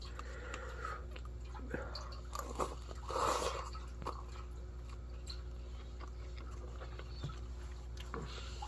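Slurping and chewing while eating a cup of shelf-stable ramen with thick noodles and broth. Close, wet mouth sounds with soft crunchy bites and one longer slurp near the middle, over a steady low hum.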